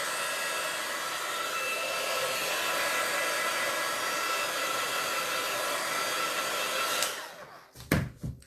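A craft heat tool blows a steady, loud whooshing hum over distress ink and water on a craft sheet for about seven seconds, then cuts off, followed by a few handling knocks.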